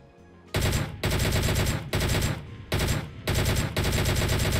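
Sustained automatic gunfire from the mobile battle royale shooter PUBG Mobile, loud and close, in several long dense bursts separated by brief gaps, with no talk over it.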